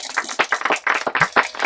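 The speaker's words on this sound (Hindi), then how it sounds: "हम सब लोग तालियां बजाएंगे" A group of people clapping together in quick, uneven bursts at the close of a speech, nearby and fairly loud, with no talking over it.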